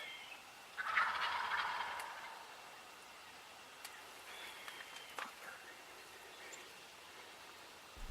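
A wild turkey tom with three beards, in an Illinois spring bow-hunting setting, gobbles once in a loud, rolling burst near the start. Afterward there is only a faint, soft outdoor background with a few small ticks.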